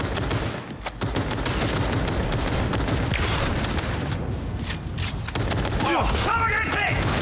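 Dense, continuous video-game gunfire fills the whole stretch as a loud, sustained barrage of rapid shots with occasional heavier bursts, and a voice breaks in briefly near the end.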